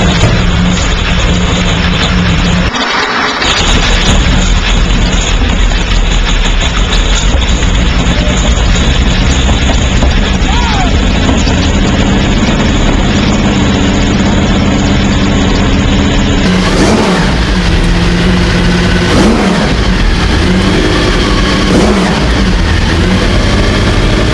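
A 1969 Porsche 917 racing car's 4.5-liter flat-12 engine runs loud and close, a steady, dense mechanical roar with a brief dip near the start and a sharp shift in tone partway through as it revs.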